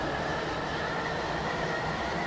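A Class 170 train runs steadily in a Roblox-style railway game, giving a constant, even rumble and rolling hum from the carriage with no pauses.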